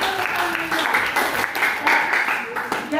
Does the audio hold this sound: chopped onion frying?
no